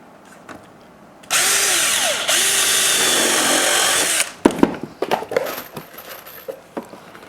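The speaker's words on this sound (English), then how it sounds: "Okay, and then we'll drive a screw in here." A power drill drives a screw into a wooden deck baluster in a loud three-second burst with a brief pause, followed by scattered clicks and knocks of handling.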